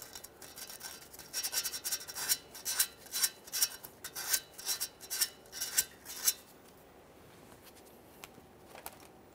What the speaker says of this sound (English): Before installation, let's clean and inspect the mounting port where our brand new O2 sensor will sit. I'm using some fine sandpaper for this.